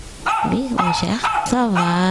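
A pet dog named Chanel barks and yelps in several sharp, close bursts, partly under someone talking in French.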